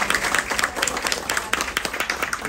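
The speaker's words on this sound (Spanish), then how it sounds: "Yo quiero pedirle a ustedes un fuerte aplauso también para un gran amigo" Audience at a Cuban community gala dinner honoring José Martí's birth anniversary breaks into dense, lively applause, many hands clapping continuously at close range.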